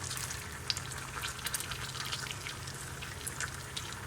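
An egg frying in a pan over medium-high heat gives a steady soft sizzle, with small crackling pops scattered throughout, quiet and close with no talking.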